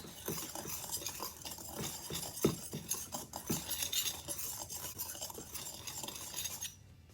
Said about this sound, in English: Give this a quick whisk until it's well blended.